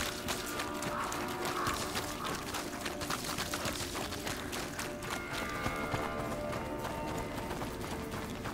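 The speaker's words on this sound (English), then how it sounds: "Oh, the horse." Horse hooves running in A Plague Tale: Innocence, a faint, continuous rhythmic clatter under ambient game sound.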